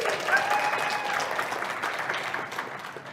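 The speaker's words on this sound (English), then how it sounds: "I'm waiting for applause." Applause, a burst of clapping from a crowd that holds steady and then gradually tapers off, with a few cheers or whistles early on.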